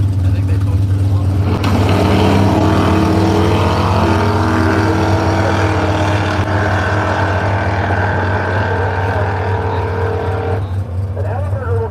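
Drag racing cars at Brainerd drag way, including a 1964 Nova wagon, roar with a loud, sustained engine drone and shifting pitch, with announcers talking over it.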